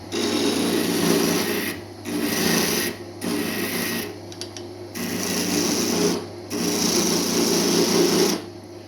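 A wooden arrow blunt is shaped on a medieval lathe, with rhythmic bursts of rasping cutting and scraping a few seconds apart, broken by short pauses, close and clear.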